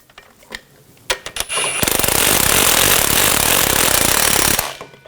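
Driveshaft coupler nuts and bolts on a 2000-2006 BMW X5 driven down with a loud, close impact wrench burst lasting about three seconds, preceded by a few light metallic knocks and clicks.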